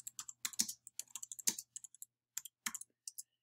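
Quick bursts of keystrokes on a computer keyboard, close and clear, with irregular clusters of clicks separated by short pauses and no talking.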